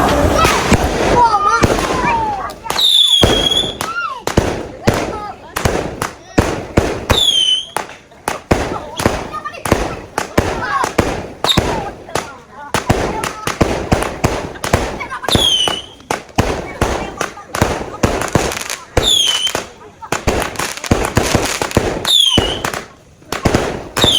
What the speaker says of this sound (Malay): Dia nak pasang bunga api.